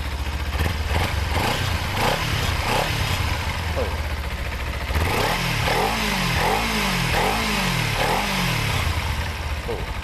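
A 2017 Kawasaki Z250 motorcycle engine runs steadily, with a few rhythmic throttle blips partway through, heard close with some talking over it.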